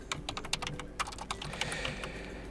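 Quick, irregular keystrokes on a computer keyboard while a terminal command is typed on Linux, close and fairly quiet, with no talking.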